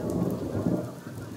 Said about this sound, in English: Oh, in the rain. It's raining.